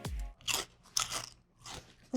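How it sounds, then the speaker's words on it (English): Crisp roast pork crackling being chopped into big pieces, a few loud, brittle crunches and cracks at uneven intervals, close up with no speech. "You can just chop it up into big old pieces like I am. I just wanted to let you know how crunchy it is."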